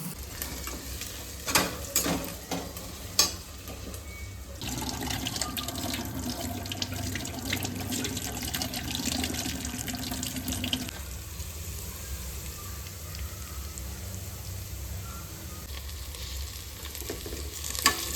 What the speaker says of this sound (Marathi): सर्वप्रथम जिरे मोहरे, खडा मसाला आणि कांदा मस्त तेलामध्ये आपल्याला फ्राय करून घ्यायचा आहे